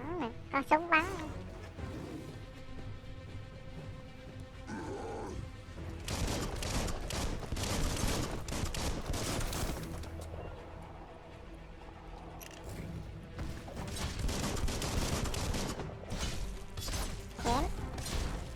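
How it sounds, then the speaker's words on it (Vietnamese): Rapid bursts of gunfire and clanking mechanical effects in the video game Biomutant, dense and continuous, with a person speaking briefly near the start. "Bắn nè, có súng bắn nè."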